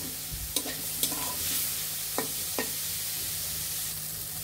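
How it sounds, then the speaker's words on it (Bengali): Egg and tomato being stir-fried in a pan, with a soft continuous sizzle broken by several sharp scrapes of a spatula against the pan. "এভাবে ডিম আর টমেটোটা ভালোভাবে ভাজা করে নিতে হবে।"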